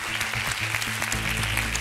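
Studio audience applause on a TV talk show, a dense steady patter of clapping lasting under two seconds over a low sustained musical tone.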